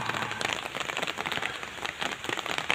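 Steady rain pattering on a hard surface, dense and close, a constant drumming wash with no voices.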